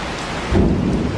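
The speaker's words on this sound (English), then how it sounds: "What do you think of the rain, Griffin?" Heavy rain pours down outdoors in a dense, loud wash, with a deep rumble of thunder swelling partway through.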